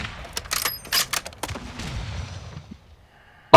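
Gunfire in the video game Warzone 2 DMZ: a rapid series of sharp shots, close and loud, in the first half, thinning to scattered reports and fading out, with another sharp burst at the very end.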